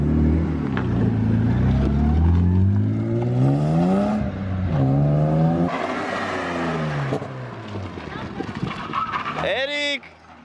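A car engine idles and revs, running smoothly while it is worked on as a touring-car project. It is loud and continuous, with pitch rising and falling, and a brief high whine near the end.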